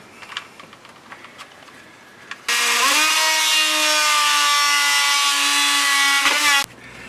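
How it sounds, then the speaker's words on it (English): An oscillating saw cuts through a boat hull in one steady, loud, close buzzing stretch of about four seconds, with quieter handling noises before and after. "I'm just going to get my oscillating saw out again and cut along my lines."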